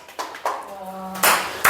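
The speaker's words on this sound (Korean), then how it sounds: "박수!" Scattered claps and hand taps in a math classroom as a lecture ends, a few sharp bursts with a louder flurry near the end and a spoken voice in between.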